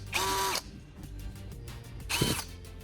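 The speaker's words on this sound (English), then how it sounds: "The drill springs to life with full power and drills effortlessly into the wood." A cordless drill with a revived battery whirs in two short, loud, high-pitched bursts close by, with quieter mechanical noise between them.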